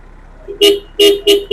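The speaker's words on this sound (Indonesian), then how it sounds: "Klaksonnya juga banter ya" A car horn on a 2000 Mitsubishi Kuda GLS diesel sounds four short, loud honks in quick succession: one burst, a brief gap, then three more close together.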